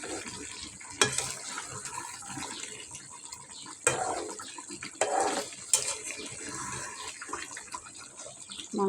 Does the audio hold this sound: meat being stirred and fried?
yes